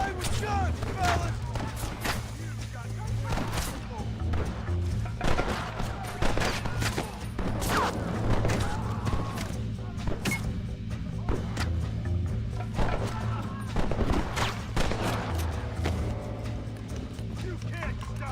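Gunfire in a Red Dead Redemption shootout, with many sharp shots cracking in rapid, irregular bursts throughout, mixed with horse hooves and people talking.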